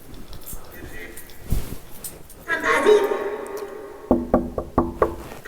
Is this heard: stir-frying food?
no